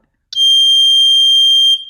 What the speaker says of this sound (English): the circuit would be complete, and the buzzer would make this noise